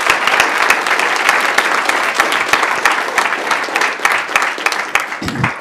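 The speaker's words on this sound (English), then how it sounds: "That's another round of applause," A round of applause at a city council meeting honoring a youth regional championship team, a steady wash of many hands clapping in a large room, continuous and fairly loud throughout.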